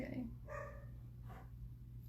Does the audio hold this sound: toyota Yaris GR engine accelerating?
no